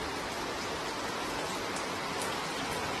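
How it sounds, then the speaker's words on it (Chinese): Heavy downpour during a thunderstorm, a steady dense hiss of rain falling on surfaces, continuous and unbroken with no voices. "下大暴雨了，电闪雷鸣的"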